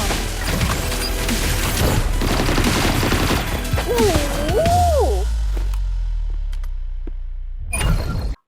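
An AKM rifle firing in the mobile game PUBG Mobile: dense, loud volleys of gunfire mixed with crashing impacts and a wavering electronic swoop. The sound then thins into a fading rumble and ends with one final burst.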